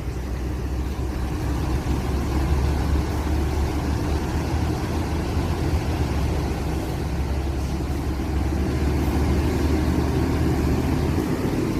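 A Berlian Jaya bus pulls away from Terminal Jati Kudus, its engine a steady, loud, low rumble that drones on without a break.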